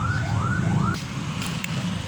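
An ambulance siren wails in rising and falling sweeps on a street, fairly near, then stops, leaving only low background traffic rumble.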